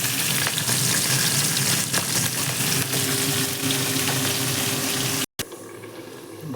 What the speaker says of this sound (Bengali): আরেক লট হচ্ছে ভাজা মাথা, কাতলা মাছের মাথা